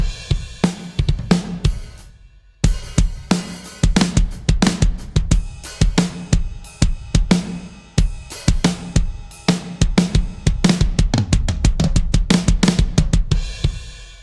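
An aggressive, punchy Heavyocity Damage drum kit pattern pounds out hard kicks and snappy hits in a driving groove after a brief pause, growing denser toward the end, with no voices.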